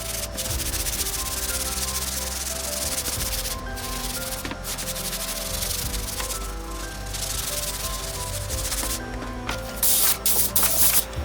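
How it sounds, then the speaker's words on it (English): Steady hand sanding with a 600 grit sanding block on a custom rear speaker deck for a Lexus IS300, a continuous close rasping rub in back-and-forth strokes with a few brief pauses and no talking. "I'm gonna hit it with a sanding block. I think it's 600 grit."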